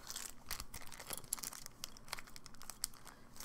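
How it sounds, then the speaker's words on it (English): A tiny Ziploc plastic bag crinkles and crackles up close as fingers work to pull it open, with quick irregular bursts that continue for a few seconds, with no voices. "my tiny Ziploc bag doesn't want to open."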